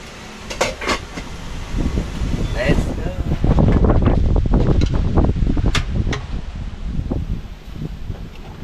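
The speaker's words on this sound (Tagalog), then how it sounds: "Ang lakas ng hangin." Strong wind roars outdoors in loud, gusting waves that buffet the microphone, with a person talking underneath.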